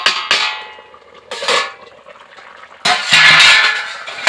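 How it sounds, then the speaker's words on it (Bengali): A metal lid comes off a cooking pot of simmering fish curry with sharp clanks and ringing scrapes, several distinct metallic hits close by, the last one followed by a longer rattling clatter. "আমি ঢাকাটাকে একটু খুলছি।"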